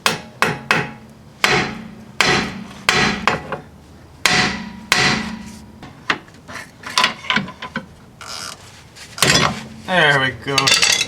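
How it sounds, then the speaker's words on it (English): Repeated hammer strikes on a seized lower control arm bolt of a 1998 Audi, loud sharp metallic bangs in irregular bursts with ringing clanks, some rapid, close by. "you hammer on that until this knocks it loose"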